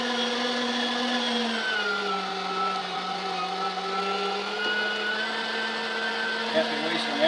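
An electric grinder runs continuously while making juice, a loud steady motor whine with a sustained tonal hum that dips slightly in pitch under load, with a few small knocks near the end.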